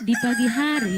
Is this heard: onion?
no